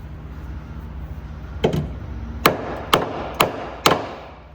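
Four sharp hammer blows strike a chisel to flatten metal parts while fitting coilovers to a Ford BA Falcon, a slower first tap followed by evenly spaced loud ringing hits against a low background hum.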